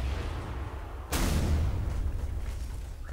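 Artillery shell launched in Garry's Mod, a single sudden loud boom at about one second that holds for roughly half a second, then trails off into a rumbling decay over steady low background noise.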